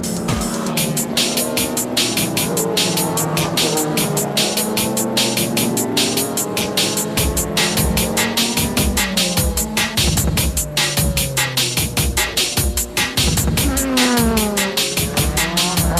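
Eclipse Advent Toyota Supra JGTC race car running on track on Yokohama slicks, a loud, continuous engine howl with rising and falling pitch sweeps as it shifts through gears, close and dominant throughout.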